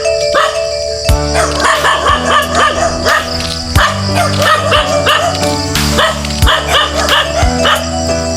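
Several dogs barking repeatedly near a friend's house in a rural Philippine setting, loud, close, overlapping barks and yips in a steady rhythm with a few whimpers, with no talk over them.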